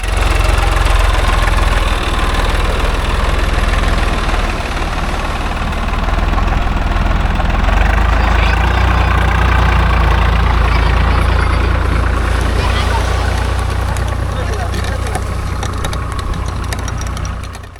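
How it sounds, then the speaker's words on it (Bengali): A tractor engine drones steadily and loudly throughout as it hauls wheeled fishing boats ashore at Gangasagar, a deep continuous rumble with slight vibration and no break. "চাকা লাগিয়ে নৌকোগুলোকে ট্রাক্টর দিয়ে টেনে তোলা হচ্ছে।"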